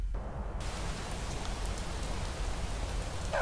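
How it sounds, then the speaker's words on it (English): Rain falls in a game scene, a dense, steady hiss that covers the whole stretch at an even level, with no voices. "Well, it's raining."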